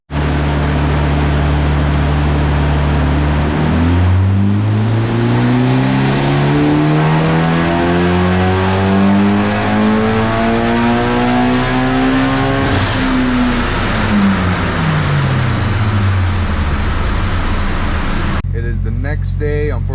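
Mitsubishi Evo 9 with a custom FP Black spec turbo on a stock block, engine revving loudly through a long dyno pull, pitch climbing steadily, peaking, then falling away as the run ends, with a brief click and shift at the finish.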